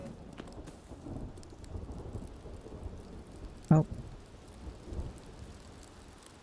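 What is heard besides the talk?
thunderstorm with rain in Rising World video game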